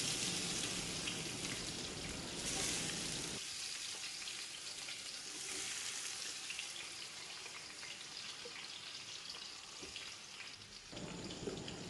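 Large batch of sliced onions frying in hot oil for mutton biryani, a dense, steady sizzle and crackle close by, continuing throughout with slight swells in intensity and no voices.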